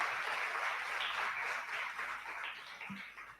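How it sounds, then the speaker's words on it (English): A round of applause from the audience at a CyberGirls orientation ceremony, heard fairly faint and distant, clapping steady for a few seconds before tapering off. "Give Confidence another round of applause."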